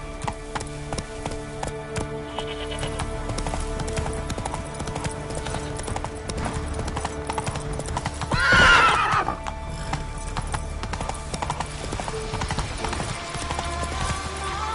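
Roach the horse gallops in The Witcher 3, steady clip-clop hoofbeats running throughout with a loud whinny near the middle, over game ambience.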